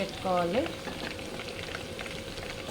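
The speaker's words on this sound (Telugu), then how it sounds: "Okay, France వేగుతున్నాయి." Close, steady sizzling of prawns frying in hot oil, a continuous crackling hiss with a short rising whistle-like tone near the start.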